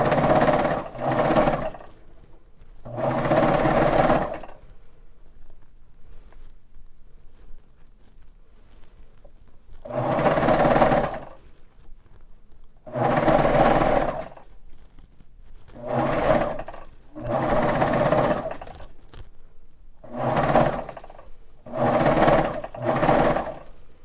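Baby Lock Vibrant sewing machine stitching toddler pajama shirts in a batch, its motor buzzing in repeated bursts of one to three seconds with short pauses between runs, steady and close.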